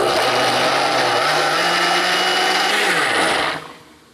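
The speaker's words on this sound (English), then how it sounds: "now we have all of our wet ingredients and we want to blend this up into a smooth" A blender whirs olive oil and wet ingredients into a smooth paste, a loud continuous motor roar that shifts pitch slightly as the mixture thickens, then winds down and stops near the end.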